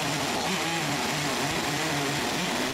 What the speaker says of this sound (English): Now with the log on my mill, it's time to make more planks.